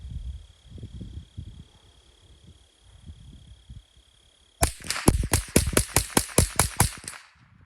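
A Legacy Citadel TRAKR .22 semi-automatic rifle fires a rapid string of about ten sharp, loud shots in quick, even succession, following a stretch of quiet low handling noise.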